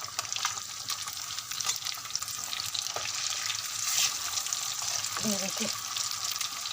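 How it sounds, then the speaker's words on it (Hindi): Fish pakoras frying in reused mustard oil, a steady close sizzle with occasional stirring, and a brief voice over it. "तो ये सरसों के तेल के अंदर पहले भी चीज़ें फ्राई होती हैं, तो अब इसके अंदर दोबारा फ्राई कर रहे हैं"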